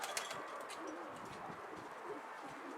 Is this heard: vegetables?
no